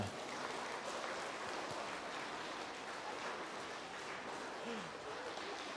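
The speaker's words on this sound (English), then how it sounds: "All you clappers, you're doing good. I know it's hard to clap this much." An audience claps continuously at an elementary school Student of the Month awards ceremony, a soft, even patter of many hands heard from a distance with no break.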